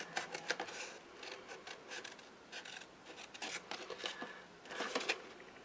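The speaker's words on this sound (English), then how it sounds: "I'm going to have to bring in my scissors" Scissors fussy-cut around a card shape in a series of soft, close rasping snips that come in short irregular bursts, quiet and without speech.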